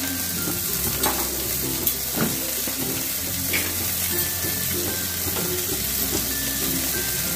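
Onion, ginger paste and chili fry in a pan with a steady close sizzle and scattered stirring scrapes, for prawn curry with potato and cauliflower, with a faint clink or two of a utensil and no talk.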